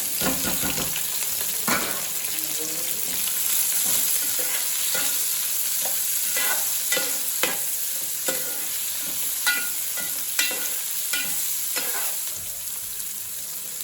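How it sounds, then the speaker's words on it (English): Onion fries in a pan with green chili for chicken pulao, a continuous close sizzle broken by frequent spatula scrapes and stirring taps. "fry for 2 minutes"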